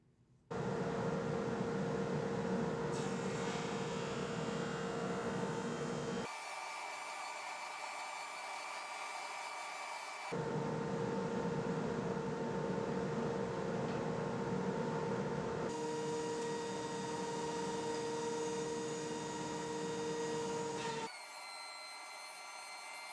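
A bandsaw rips a piece of white oak in a woodworking shop. A steady, loud motor drone and blade whine run for over twenty seconds with no talk. The pitch shifts in several sections as the cut loads and eases.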